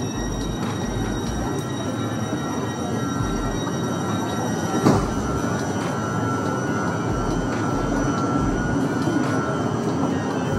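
A regional train in Italy departing, heard from inside the carriage as a steady loud rumble and hum with faint wheel squeals and one sharp clank midway, without talk.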